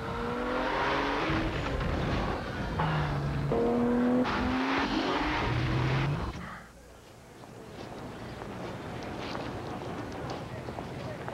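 A Nissan Maxima with a 265-horsepower engine revs and accelerates in a car commercial, rising engine tones mixed with music and effects, then fading into crowd ambience as talk begins.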